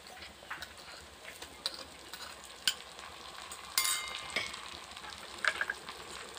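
Ginger garlic paste fries in oil in a pan for a jackfruit and prawn curry, a soft steady sizzle punctuated by sharp clinks and scrapes of a spatula stirring, close, no voices.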